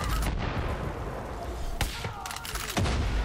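Sniper rifle fire in Far Cry 5 on a World War II custom map: a few sharp gunshots, near and loud, with a booming shot near the end, over steady battle noise and faint talk.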